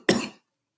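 A single short cough close to the microphone, one sharp burst that fades quickly into silence.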